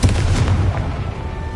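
A Confringo fire spell blasting in Hogwarts Legacy lands as a loud, deep, booming explosion right up close, with the rumble rolling on and fading over a second or so, no voices.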